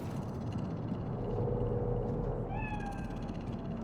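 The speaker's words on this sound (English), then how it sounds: "Do you see it? The cat?" A cat meows once in the Cyberpunk 2077 video game, a short rising cry heard over a constant low city rumble and ambient hum.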